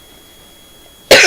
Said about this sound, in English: He's still just coughing.